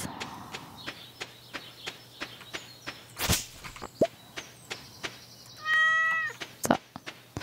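A cat meows when petted in the farming video game Stardew Valley, with short game clicks and footsteps around it and a clear meow near the end.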